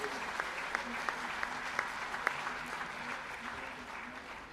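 Steady applause from an audience at a felicitation ceremony, many hands clapping together at a moderate level, with a few sharper individual claps standing out above the wash before it tapers slightly at the end.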